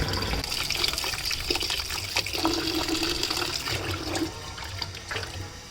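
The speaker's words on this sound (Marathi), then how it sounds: "2-4 पाण्याने स्ट्रॉबेरी धुवून घ्यायची" Fresh strawberries being rinsed in several changes of water, with continuous close sloshing and splashing that dips briefly and thins out toward the end, with no talking.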